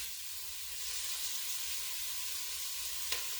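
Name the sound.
finely cut celery cooking in a pot for clam chowder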